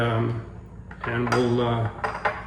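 Smoked meatloaf ingredients with egg, breadcrumbs, yellow mustard and dried onions being mixed in a bowl, with a few close metallic clinks and scrapes of a utensil against the dish, plus brief low voice-like tones.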